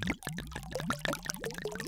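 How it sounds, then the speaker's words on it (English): Wine pouring out of bottles as a layered sound effect, a continuous glugging gurgle with quick bubbly pulses and rising pitch, close and fairly quiet. "I actually slid in a very subtle sound of 2 samples, both of wine being poured out of bottles"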